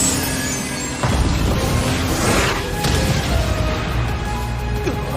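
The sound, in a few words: anime magic crystal attack colliding with golem's attack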